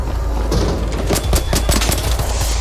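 Rapid bursts of gunfire in the video game ARC Raiders, loud and close, a dense run of overlapping shots with heavy low booms and sharp cracks.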